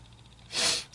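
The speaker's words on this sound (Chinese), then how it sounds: "打喷嚏" A single sneeze, loud and close, bursts out in a chilly Washington, D.C. street over steady low background hum.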